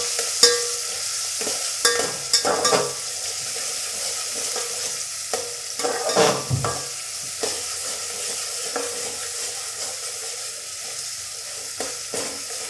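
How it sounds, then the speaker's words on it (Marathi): Tomatoes sautéing in oil for vegetable biryani give a steady close sizzle, with repeated scraping stirs and light clinks of a spoon against the pot throughout. "हे बघा टोमॅटोही चांगला परतून झालेला आहे।"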